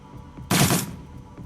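A single loud burst of rapid gunfire from the combat game Shadowrun: Dragonfall, a dense rattling volley lasting about a third of a second that stands out sharply against a quiet background.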